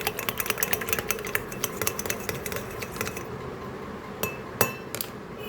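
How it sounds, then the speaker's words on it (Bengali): Homemade paper colour being stirred with a brush in a small pot gives a run of light clinks and taps, steady for a few seconds and then sparser, close by with no talk. "তো দিয়ে দেওয়ার পরে আমরা এখন এটা দিয়ে নাড়িয়ে দেবো।"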